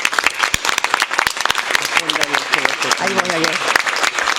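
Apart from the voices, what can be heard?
audience applause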